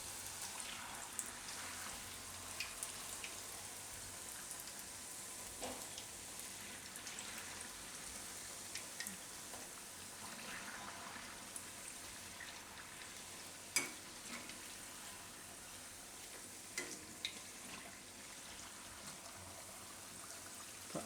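Sabudana puri, a Gujarati snack, frying in hot oil: a continuous soft, rain-like crackle and hiss of bubbling oil, fairly quiet and steady over a long stretch, with an occasional sharper pop and no talking.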